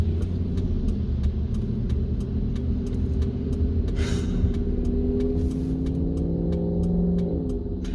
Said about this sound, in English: the motorcycle noise that goes by